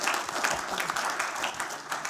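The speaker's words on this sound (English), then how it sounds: "Let's give him a round of applause." Round of applause from the audience at a pitch competition finals workshop session, a faint, steady patter of many hands clapping for about two seconds.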